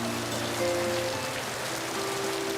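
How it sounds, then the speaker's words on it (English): Heavy rain pours down outside a Japanese house in the Odaigahara mountains, making a dense, steady, even hiss with no voices. "Outside, the rain is thundering down."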